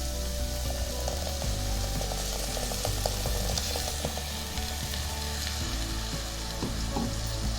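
Pureed tomato sizzles and fries steadily in a hot pan for a tomato rice dish, a dense continuous crackle with faint clinks of stirring, no one speaking.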